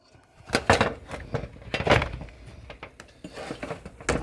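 A wobbly camera stand knocks and clatters several times in a home kitchen during breakfast wrap preparation, sharp irregular bumps with quiet gaps between them.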